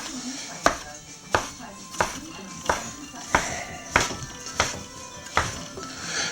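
A cutter chopping potato gnocchi dough on a floured board, about nine evenly spaced sharp knocks roughly every two-thirds of a second, close and clear, with people talking in the background.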